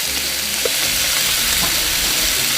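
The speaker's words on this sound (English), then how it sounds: "I've got my Blackstone on high. So I'm going to just cook them" Peppers and onions fry on a Blackstone griddle set to high heat, a loud, close, continuous hissing sizzle with faint scraping stirs and no talking.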